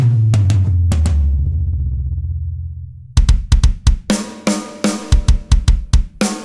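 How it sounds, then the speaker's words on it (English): A drum groove from the ML Drums plugin plays with punchy, tightly compressed snare hits using the snare mids, cutting through a full mix, following a sustained low note at the start. "Med 1 is using the snare mids, and it sounds like this. Listen how it's compressed."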